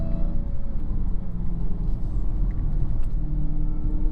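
Dodge Charger Hellcat with 797 hp driving, its engine a steady, loud low rumble heard close from inside the car throughout, no talking.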